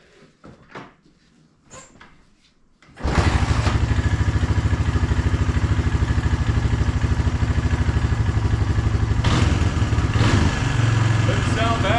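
A Honda Fourtrax 300 4x4 ATV engine catches after a few clicks and handling noises, then idles loud and close with a steady rapid chugging pulse that continues throughout.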